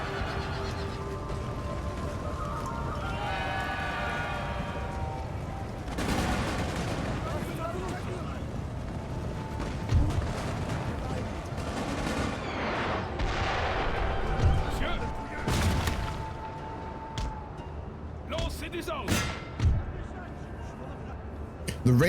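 Gunfire crackles through a Europa Universalis IV battle, with repeated sharp shots and volleys scattered across the scene, horses whinnying at times, and someone talking over much of it.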